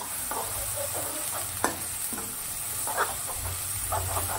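Onion is stirred in a pan with a paste of ginger, garlic, coriander, curry leaves and coconut, giving a steady sizzle and hiss with occasional scraping clinks of the spoon, and no talk.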